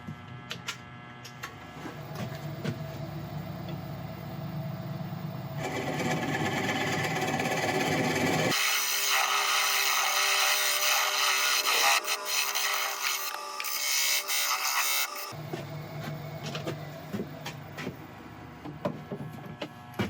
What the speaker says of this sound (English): I've marked a place for a recess, so we're going to cut this in